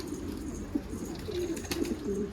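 Racing homing pigeons coo in a garden, low throaty warbling calls repeating several times close by over a faint outdoor background, no talk.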